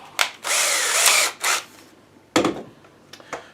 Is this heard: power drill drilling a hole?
yes